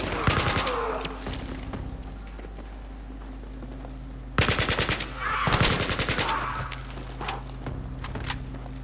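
Rapid automatic gunfire in the video game Battlefield 3, with two loud bursts of fast repeated shots and scattered single shots between them, heard close up with no talking.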